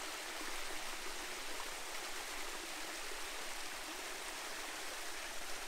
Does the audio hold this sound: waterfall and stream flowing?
yes